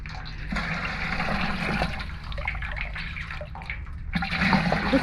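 Water is drawn and poured by hand outdoors, a continuous splashing and trickling flow with gurgling bursts, fairly close and steady, with no voices.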